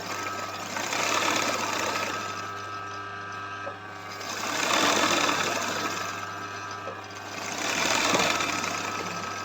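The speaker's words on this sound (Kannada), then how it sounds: "ಈಗ ಇನ್ನೊಂದು ಸ್ಟಿಚ್ ಇದಕ್ಕೆ ಹೇಳ್ತಾರೆ ರೈಸ್ ರೈಸ್ ರೈಸ್ ಅಕ್ಕಿ ಅಕ್ಕಿ ಸ್ಟಿಚ್" An embroidery machine sews a rice stitch with a continuous mechanical whirring hum that swells and eases in repeated cycles, running alone without talk.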